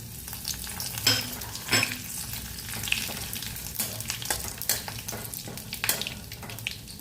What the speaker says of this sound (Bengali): দেখো আমি তেলেতে দিয়ে দিচ্ছি, তেলটা আশা করি গরম আছে, আমি দিয়ে দিলাম